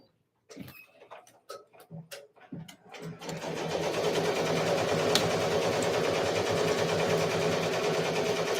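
A Ricoma MT 1501 15-needle embroidery machine starts with a few scattered clicks and thumps, then settles into a steady, fast, loud mechanical chatter of stitching that runs continuously to the end.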